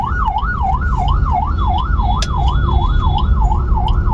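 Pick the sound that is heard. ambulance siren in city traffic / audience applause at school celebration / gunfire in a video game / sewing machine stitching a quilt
ambulance siren in city traffic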